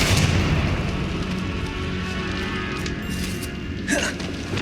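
Blasting spells cast in the Hogwarts Legacy video game go off as a heavy, rumbling boom that fills the clip, with a rough noisy tail and a sharper burst near the end.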